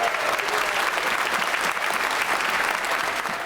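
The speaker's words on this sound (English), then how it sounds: "Applause is rare in the Commons, standing ovations even more so." Sustained applause for a standing ovation fills the House of Commons chamber. It is a dense, steady clatter of many hands, moderately distant, with no break.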